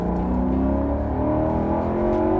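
A Maserati Quattroporte S engine accelerating, a steady loud near roar with rising harmonic tones held throughout, no talk.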